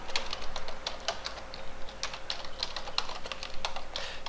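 A computer keyboard typing a password during software account setup: a steady run of quick, close key taps, even and clear, with no voices.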